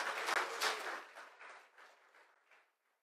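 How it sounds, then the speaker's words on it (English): Church congregation applauding, a broadband burst of clapping that is strongest in the first second, then thins and fades out, ending in near silence after about two and a half seconds. "Let's give them all a round of applause."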